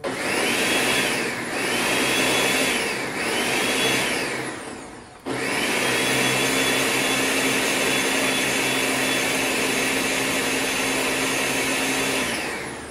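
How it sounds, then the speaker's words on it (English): A blender pulses key limes for limeade, roaring loudly in bursts with brief dips between pulses, then running in one long continuous whirl, close up and with no talk. "I'm gonna pulse it a few more times, just give it a good whirl."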